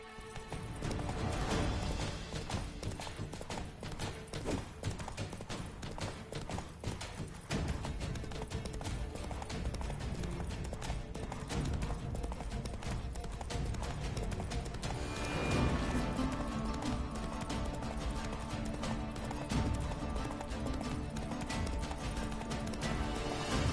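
A horse galloping in the video game The Witcher 3, with a fast, continuous drumming of hooves close up, loud and sustained throughout, a brief whinny-like swell midway, and little or no talking.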